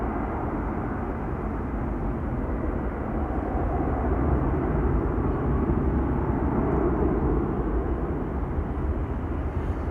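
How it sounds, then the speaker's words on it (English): A United Boeing 767 airliner takes off in the distance at Amsterdam Schiphol Airport, giving a steady, broad jet roar that holds even and slightly swells throughout, with no voices. "United taking off in the distance over there."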